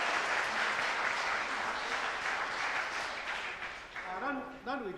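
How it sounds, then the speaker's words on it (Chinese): A church congregation applauds during a Sunday worship service, steady dense clapping filling the room for several seconds before it thins out and a voice begins speaking over the tail. "我们再次热烈掌声"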